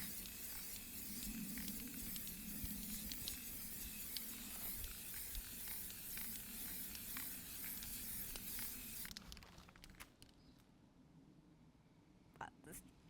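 A steady, broad aerosol hiss of spray paint on a BMW E46 wing runs continuously for about nine seconds, then cuts off, leaving a few short clicks and faint rustles in a quieter room.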